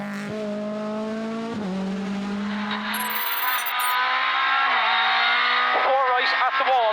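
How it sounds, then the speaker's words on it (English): Rally car on a night stage of the Killarney Historic Rally, heard from inside the cabin: a loud engine drone that holds, drops on a shift, then climbs again, with brief squeals near the end. "In 7th, Damien O'Sullivan and Owen McCarthy as we go in car with the pair on the night stage"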